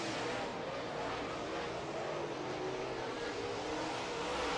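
Late model race cars on a dirt track slowing into turn 1 at night, their engines a steady, distant, broadband roar that holds evenly throughout without talking.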